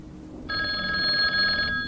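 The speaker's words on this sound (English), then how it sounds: "It was the hotel phone." A hotel telephone rings in a short, loud electronic trill that starts abruptly after a moment of quiet and holds steady to the end.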